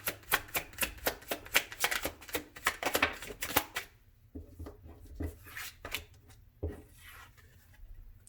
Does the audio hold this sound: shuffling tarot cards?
yes